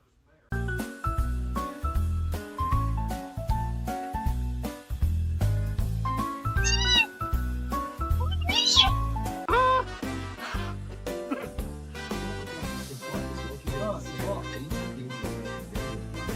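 Cats meowing amid a busy pet compilation, several short meows heard over steady rhythmic background music with jingly accents.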